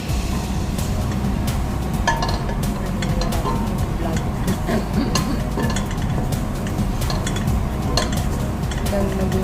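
Flour is stirred in a pan until it browns, giving repeated scraping and clinking of a utensil against the cookware under a steady background hiss, close and continuous without a clear break.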